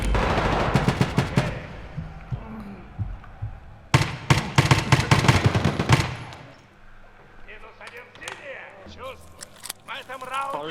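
Rapid automatic gunfire from Escape from Tarkov Arena rattles in loud dense bursts for about six seconds, then gives way to quieter scattered shots and movement sounds, with a voice talking over parts of it.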